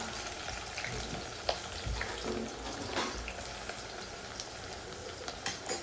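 Chopped onions sizzling in a pan as the base for a chicken curry, a steady crackling fry with occasional stirring scrapes, close and moderately loud with no talk.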